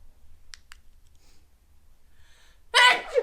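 A quiet room with a couple of faint clicks, then one loud, close sneeze bursts out near the end.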